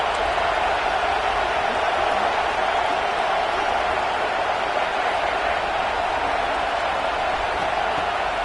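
A stadium crowd in a Madden football video game roars in a steady, dense wash of noise on a third-and-goal play, holding at an even level without a break.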